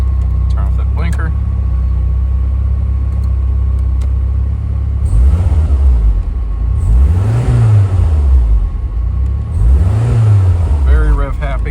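A 1990 Lancia Delta Integrale HF 16v all-wheel-drive rally car sits idling loudly up close, then its engine is blipped in two quick revs that rise and fall back to idle.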